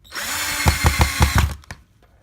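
A handheld power drill drives screws down through a mounting plate, loud and close, its motor whining in a series of about five quick pulsing bursts before winding down and stopping.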